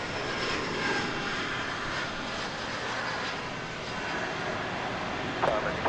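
A plane at DFW Airport gives off a constant, loud engine roar that holds evenly for several seconds without letup.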